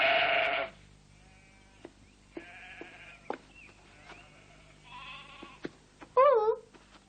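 A sheep bleats loudly in a burst at the start and again near the end, wavering and nasal, with speech in between in an animated cartoon setting.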